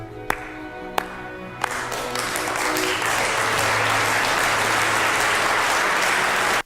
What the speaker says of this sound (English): This deserves a slow clap.